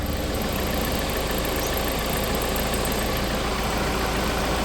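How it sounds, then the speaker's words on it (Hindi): A Tata Safari diesel engine idles steadily up close, a continuous even drone with a slight metallic rattle running through it. "अब देखो जैसे मेरी गाड़ी के इंजन की भाई साउंड सुनो आप"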